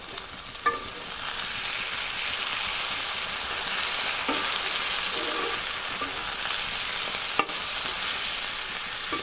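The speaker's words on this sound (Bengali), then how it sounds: "একটু আদা বাটা আর পেঁয়াজ দিয়ে দিলাম। তারপরে ভালো করে ভেজে নেব সবজিটাকে।" Vegetables frying with ginger paste and onion in a pan, a steady loud sizzle with a few sharp clacks of a stirring spoon against the pan.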